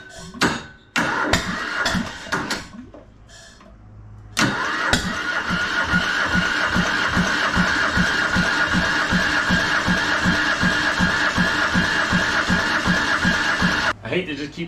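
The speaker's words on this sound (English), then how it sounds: "I hate to just keep cranking" Starter cranking a military surplus diesel engine fitted to a trench compactor: a few short attempts, then about ten seconds of steady rhythmic chugging cranking up close, with people talking.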